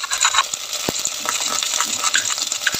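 Ginger dropped into a hot pan sizzles steadily, with scattered sharp crackles and spatter pops and a few clinks of stirring throughout, close and fairly loud, with no talking.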